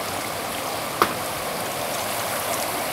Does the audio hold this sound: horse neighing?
no